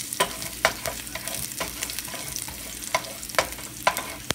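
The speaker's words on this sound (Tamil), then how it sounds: "இப்போ நம்ம கடுகு வச்சதுக்கப்புறம் பூண்டை சேர்த்து வதக்கிக்கலாம்." Garlic sautéing in a pan after mustard seeds for an eggplant masala, giving a steady close sizzle with repeated stirring scrapes and clicks throughout, no talking.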